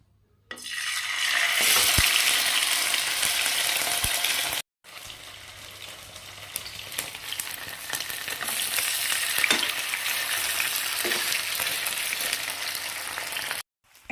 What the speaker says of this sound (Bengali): চলো এবার চিলি চিকেনগুলো আমি ভেজে নেব।